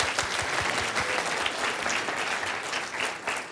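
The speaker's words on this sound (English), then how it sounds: "give him a round of applause for that" A seated audience gives a round of applause for a participant, dense, steady clapping that stays loud and even from start to finish with no voices on top.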